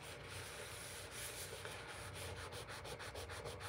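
Paper glued onto cardstock with liquid glue is rubbed down by hand, a soft, close, continuous scratchy friction sound with faint rhythmic strokes near the end.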